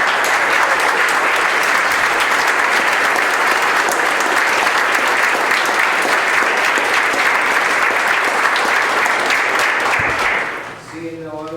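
Sustained, dense audience applause at a town board meeting honoring veterans, loud and even for about ten seconds before tapering off as a voice begins speaking.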